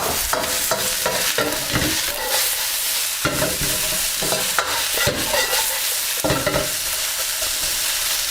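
Onions and peppers sizzle loudly in a hot wok while being stir-fried for satay beef, with steady frying hiss broken by repeated scraping stir strokes, close up and without talk.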